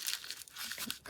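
Paper crunched by hand for a grungy patriotic flip flop journal, a quick, close burst of crinkling and tearing-like rustles lasting about a second.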